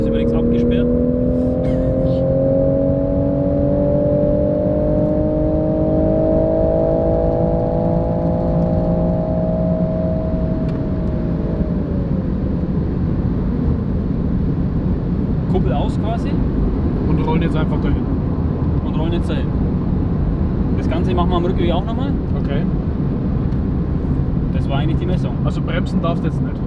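Toyota Supra MK5 A90 on a closed-off road pulling hard through one gear, engine note climbing steadily for about ten seconds before the throttle lifts, followed by a long stretch of road and wind rumble under people talking.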